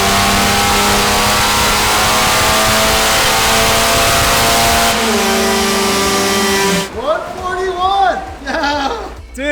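Supercharged car engine held at a loud sustained roar on a dyno, steady for about seven seconds before the revs drop sharply and excited voices take over.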